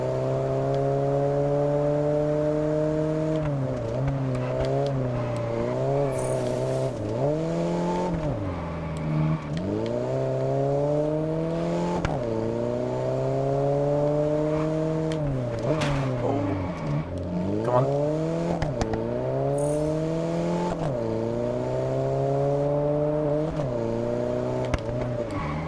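A car engine drones steadily while driving in the Test Drive Unlimited Solar Crown video game, rising and falling through repeated revs and gear shifts for the whole stretch, loud and close with no talk over it.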